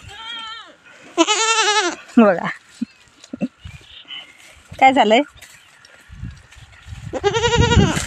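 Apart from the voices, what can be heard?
goat bleating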